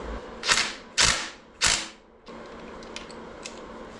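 Metal parts clank and scrape in three sharp bursts as the timing set is worked off a Ford 460 big block engine, followed by a few faint clicks and ticks nearby.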